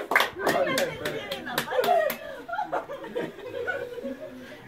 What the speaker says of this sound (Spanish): todos los aplausos ahí para Estuardo y Ingrid